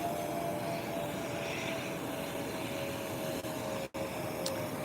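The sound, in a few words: low-flying Spirit airplane passing overhead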